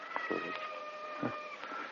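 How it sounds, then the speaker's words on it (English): A cat meowing in a house, a few short, clear meows spread across the moment over quiet room tone, close and moderately loud. "There's a cat."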